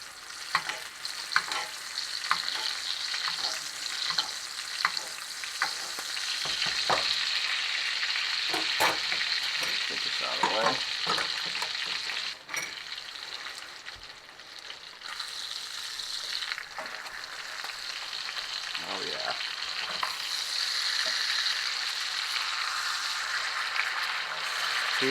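Ribeye steak searing in butter in a cast iron pan for breakfast, a steady loud sizzle and crackle running the whole time with scattered pops and brief scrapes of turning the meat.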